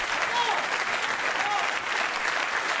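A studio audience on a French television consumer program about scams applauds in a dense, steady roar of clapping that stays even and fairly loud throughout, with no clear talking heard.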